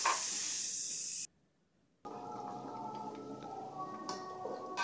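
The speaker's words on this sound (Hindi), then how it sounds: "मीडियम हाई फ्लेम पर हम इसको 10 से 12 मिनट फ्राई करेंगे।" Chicken manchurian balls fry in hot oil over a medium-high flame, a steady bubbling hiss that cuts out briefly, then returns as a denser sizzle with faint crackles and ticks, nearby with no talk.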